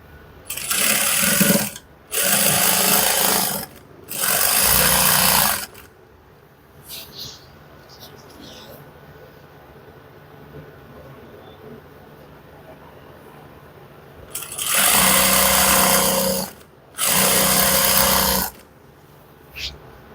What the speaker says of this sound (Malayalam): നമ്മളിപ്പോൾ ഇങ്ങനെ സ്റ്റിച്ച് ചെയ്ത് പോവുക.